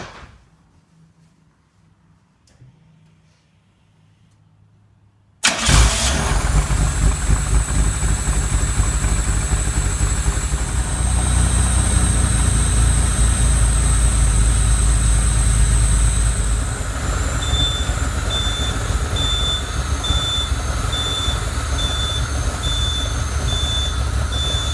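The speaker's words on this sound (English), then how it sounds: "good news is it fired up right away. The engine sounds actually pretty solid and strong" A Lamborghini Countach replica engine under restoration fires up after a few seconds of near silence, then runs steadily and loudly at a strong, solid idle with a faint high whine above the rumble.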